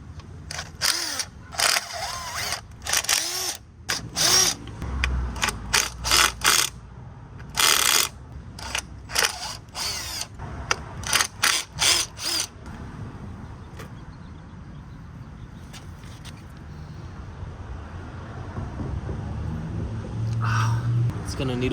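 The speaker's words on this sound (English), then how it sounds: "now we can remove the upper timing cover, and we can also remove some tension from the tensioner bolt" Ratchet wrench loosening bolts on an engine's upper timing cover and tensioner, heard as bursts of sharp clicking that come and go over the first half, then a quieter stretch with light handling noises.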